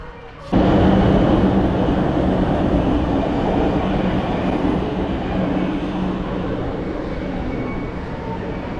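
A Kolkata Metro train at Rabindra Sarobar station, a loud, sustained rumbling roar that starts abruptly and stays heavy and close for several seconds, slowly easing off.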